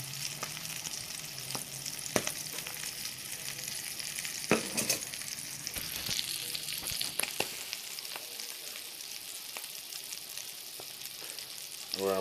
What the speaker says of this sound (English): So you got all that grease popping around in there.